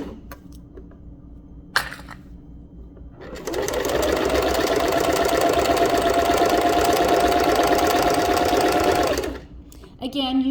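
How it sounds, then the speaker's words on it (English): A sewing machine hems fabric using a seam guide. It starts after a few seconds of quiet handling, then whirs steadily and fast for about six seconds before stopping. "So you can see I'm actually sewing a little bit faster because I don't have to worry about keeping a straight line."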